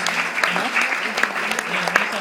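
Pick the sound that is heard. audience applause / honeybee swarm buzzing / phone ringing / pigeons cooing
audience applause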